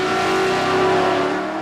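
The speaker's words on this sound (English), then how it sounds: "Let's see who's got the quickest car over a quarter of a mile then." A nitrous-boosted car in a quarter-mile drag race roars at high revs in a short, loud burst of steady engine drone, with no voices.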